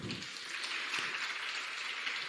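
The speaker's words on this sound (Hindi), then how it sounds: "बहुत जोरदार तालियां" Audience clapping loudly at a forgiveness meditation session in Uttar Pradesh, a dense, steady patter of many hands filling the room without talk.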